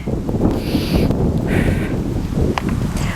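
Loud wind buffeting the microphone, a continuous low rumble with gusts and rustling on top, no talking.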